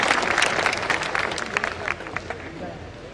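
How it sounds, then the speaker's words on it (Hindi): Loud applause from a large audience at a reception in Mumbai for Rajasthan's chief minister, a dense wash of clapping with crowd murmur mixed in that eases slightly toward the end. "जोरदार तालियों से"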